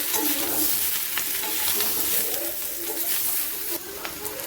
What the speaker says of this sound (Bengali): একটু ভালো করে নেড়ে ভেজে নেব